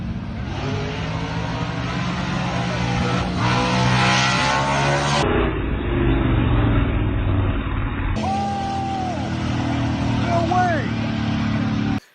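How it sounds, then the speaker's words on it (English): A drag racing car at a grudge shootout roars close by, its engine loud and sustained as it blows past, with the sound cutting abruptly in places and a voice talking over it. "And here he comes, and he blows right past me."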